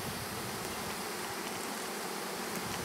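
Dense, steady buzzing of many honey bees close around a hive being robbed, a continuous drone that holds level for the whole stretch with no voices over it.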